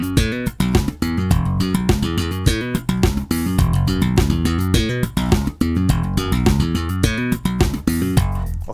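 A dense, punchy slap bass groove at 105 BPM, in the "Snake" slap pattern, with sharp percussive slaps and pops in a steady, quick rhythm, played continuously and loud with no talking.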